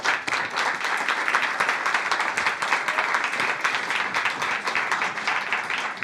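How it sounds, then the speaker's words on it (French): A studio audience gives a warm round of applause as a guest is welcomed onto a French television programme, sustained, close and dense clapping throughout with little else audible. "Je vous demande de l'applaudir bien fort, s'il vous plaît."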